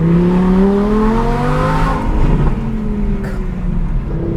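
An Audi R8 V10 Plus with a center exit exhaust revs and pulls sharply, the loud engine note climbing then dipping and climbing again, close and continuous with no talking.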